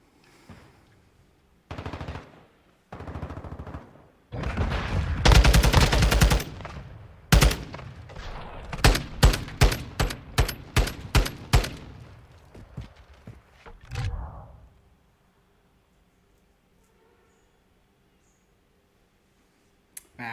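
Rapid pistol gunfire in Call of Duty Modern Warfare II, with a dense burst of shots followed by a string of sharp, evenly spaced single shots that stop abruptly, leaving near silence.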